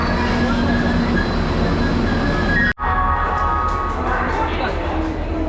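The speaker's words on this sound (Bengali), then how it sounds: "চলো ট্রেন এসে গেছে, ফাইনালি ট্রেনে" A train pulls into a station on a trip to Puri, producing a loud, steady rumbling roar that cuts out for a moment and then continues with clattering metallic detail. Voices talk faintly in the background.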